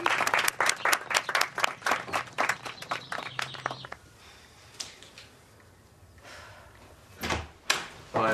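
Brief burst of applause from a small group clapping for a boy named Jake, dense clapping for about four seconds then fading into quiet room noise with a few scattered knocks.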